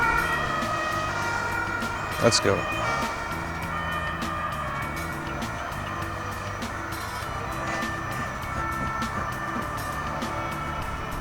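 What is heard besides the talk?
ambulance sirens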